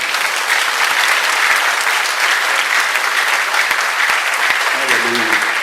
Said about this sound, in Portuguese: aplauda o Senhor nessa hora.